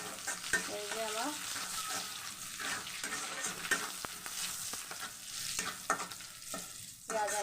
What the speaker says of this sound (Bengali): পেঁয়াজ আর মরিচটা ভালোভাবে ভেজে নেওয়া হয়ে গিয়েছে।